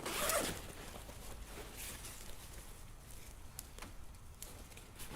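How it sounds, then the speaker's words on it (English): Zipper on an Eberlestock Skycrane II backpack pulled open in one steady, close unzipping run, starting with a louder burst then a continuous rasp. "you simply unzip it. Unhook and unzip."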